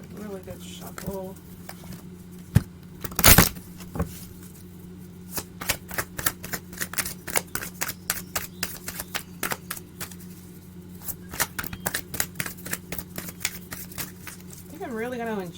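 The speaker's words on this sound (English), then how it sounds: "Let's get these a really good shuffle." Cards are shuffled repeatedly in quick riffling bursts, close by, with a steady low hum underneath and a brief louder rustle near the start.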